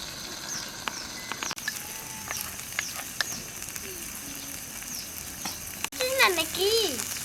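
Poppy seed paste frying in a pan gives a soft, steady sizzle, with scattered clinks and a voice talking high and close near the end.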